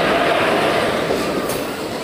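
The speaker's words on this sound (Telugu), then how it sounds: "పినాకిని ఎక్స్ప్రెస్." Pinakini Express passenger train passing near Kavali station's outer signal, a loud close rumble of wheels and carriages with a brief high squeal, heard alone without talk.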